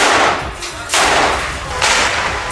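Israeli soldiers fire several rounds in a ruined Gaza area, with three sharp broadband cracks spaced roughly a second apart over constant loud noise.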